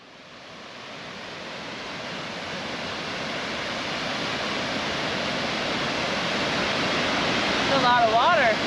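Heavy, steady rushing water from a waterfall at Glass Buttes, a broad continuous roar that slowly builds in loudness, with a brief voice near the end.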